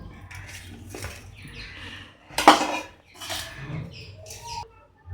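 Chopped vegetables are rinsed in a metal pot, with clattering metallic scrapes and splashy knocks in several bursts, one sharp clang near the middle, recorded close.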